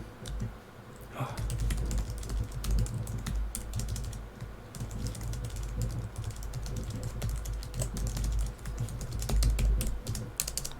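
Rapid typing clatters on a computer keyboard while writing a note in Evernote, with dense, irregular key clicks running continuously and close.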